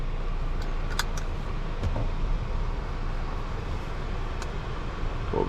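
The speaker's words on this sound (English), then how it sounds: "Let's go for the quick drive in this car." A 2025 Volvo XC90 T8 Ultra plug-in hybrid SUV drives along, a steady low road rumble and cabin hum with a few faint clicks and rattles, no voices.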